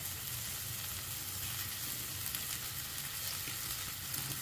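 Boiled soya chunks tipped into a hot pan of masala gravy, giving a steady, loud sizzle and frying hiss with faint stirring, close up, without voices.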